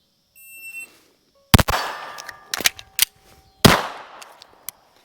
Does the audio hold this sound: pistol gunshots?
yes